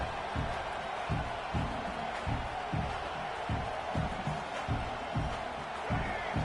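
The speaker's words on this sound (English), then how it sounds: "this crowd coming to life here, trying to help the defense get a stop" Football stadium crowd roaring as the defense tries to get a stop, a broad sustained cheer with rhythmic thumping pulses, likely stomping or clapping, throughout.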